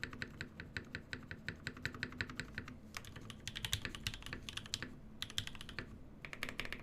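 Steady typing on a Fjell custom mechanical keyboard with a universal plate, close and clear. The quick clacking keystrokes come alone, with heavier spacebar hits mixed in.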